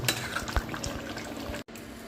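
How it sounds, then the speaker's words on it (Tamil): Jaffna-style cuttlefish curry bubbles in a pot, a soft close simmer with scattered pops and light utensil clinks, fairly quiet, with a brief dropout near the end. "கறி நல்லா கொதித்து விட்டது"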